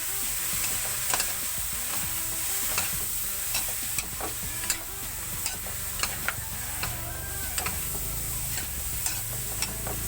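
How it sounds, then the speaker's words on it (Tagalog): Vegetables frying in a home kitchen pan while being stirred, with a steady sizzle and regular scraping clicks of a utensil against the pan, close and continuous with no talk. "So ayan na guys, linagay na natin yung palaya. Haluin muna natin ha,"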